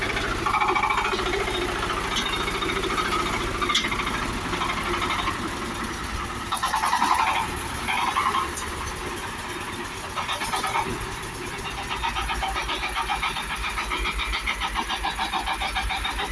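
Shifeng SF 350 mini tractor with differential lock running at a tractor yard while being loaded for shipment, a steady, rough, close diesel chug with faint knocking that continues throughout.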